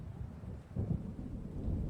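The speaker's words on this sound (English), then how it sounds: "It seems there's a storm coming." Low rolling thunder from an approaching storm in the Alan Wake video game, a muffled rumble that swells partway through and keeps grumbling beneath a faint rain-like hiss, with no voices.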